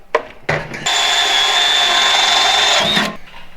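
A power drill whirs steadily into wood for a few seconds, loud and close, after a couple of brief knocks and a short start.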